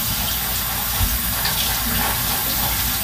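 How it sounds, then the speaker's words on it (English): Water runs steadily from a tap as a cheese grater is rinsed, a loud, close, continuous splashing rush with no pauses. "Gotta rinse this off."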